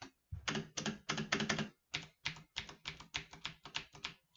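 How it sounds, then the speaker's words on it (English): Fast bursts of sharp clicks from a clicky computer keyboard, typed in quick rhythmic clusters with short pauses between them, close and alone. "I'm using click keyboard."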